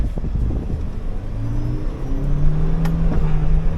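A Suzuki Jimny off-roads through swampy mud, its engine a loud, steady low rumble that rises as it revs and strains, with a whirring drone throughout and no voices over it.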